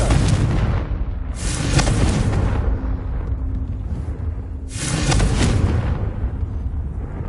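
Two Confringo fire-spell explosions in a Harry Potter video game, each a loud booming burst that fades into a rumbling tail, a few seconds apart.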